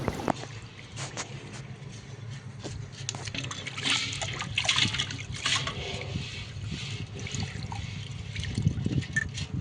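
Sorghum grain (jowar) being swished and washed in water, with continuous sloshing and trickling at close range, steady throughout with no talk.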